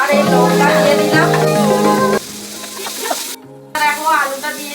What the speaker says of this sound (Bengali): দেখো আলুটা দিয়ে দিয়েছি, একটু ভাজা ভাজা হয়ে যাচ্ছে তরকারিটা।